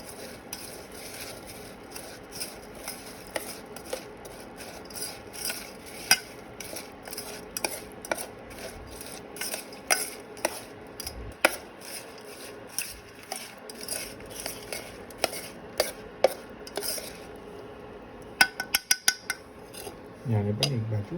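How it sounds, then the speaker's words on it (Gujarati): Metal spoon clinking and scraping against a pot while sugar syrup is stirred and mixed, a steady run of sharp taps and scrapes at close range with no talking. "સરસ મિક્સ કરી લઈશું ચાસણીને."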